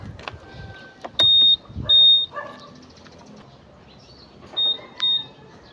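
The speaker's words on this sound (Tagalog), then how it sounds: "nag-a-alarm siya pag pinindot yung alarm niya" Several short electronic chirps and beeps from a Honda scooter alarm triggered by remote, sharp and close, in quick pairs separated by brief pauses.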